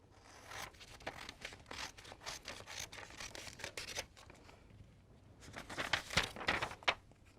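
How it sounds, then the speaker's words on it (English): Scissors cut a piece of paper during a folding craft, making quiet, close snips and crinkly rustles in short irregular bursts. "we're going to take our scissors and we're going to cut this piece off"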